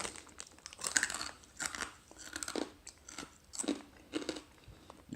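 Crunchy chewing of Mr Porky pork crackles, close and fairly quiet, with repeated irregular bites and crisp crackling crunches spread across the clip and no talking.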